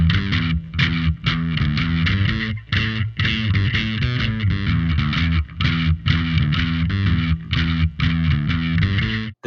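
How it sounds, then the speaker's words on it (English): Bass guitar played through a cheap plastic effects pedal, giving a distorted, chorus-tinged tone; a rhythmic riff of repeated punchy notes with brief gaps runs steadily and alone, with no talk. "it's an amazing sounding pedal"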